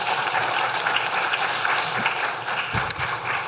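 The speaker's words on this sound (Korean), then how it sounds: "우리 박수로 한번." A church congregation gathered for a joint district worship service claps together, a steady, moderately loud patter of many hands with a couple of brief thumps near the end.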